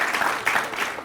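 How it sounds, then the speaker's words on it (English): A brief burst of audience applause at a high school hall of fame event, a dense patter of clapping at moderate loudness lasting about a second. "We can clap for that."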